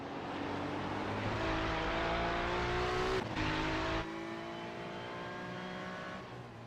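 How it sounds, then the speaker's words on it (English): Tyres on a GT3 race car in a racing video game squeal and strain under a loud, continuous engine drone that shifts pitch through a corner, with no talking. "hear those tyres complaining"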